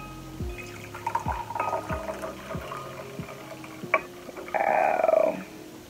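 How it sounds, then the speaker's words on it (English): Brewed tea from a Twinings sampler is poured into a cup, its falling liquid splashing and gurgling nearby, rising in pitch as the cup fills over a couple of seconds, preceded by light knocks and clinks. "I'm going to pour it in this cup so we can see how beautiful this color is"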